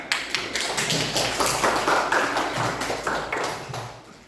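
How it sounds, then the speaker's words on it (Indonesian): A class in a junior high school classroom claps for a student group after their presentation. The clapping is steady and dense for about four seconds, fairly close, and no one speaks over it. "Tepuk tangan untuk kelompok 4"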